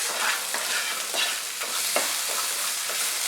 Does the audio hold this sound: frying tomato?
yes